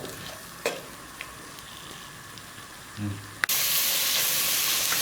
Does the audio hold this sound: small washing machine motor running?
no